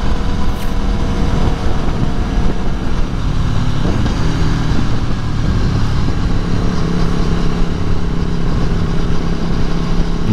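A 2018 Aprilia Tuono motorcycle engine drones steadily and loudly throughout a ride, with continuous wind rush and no pauses.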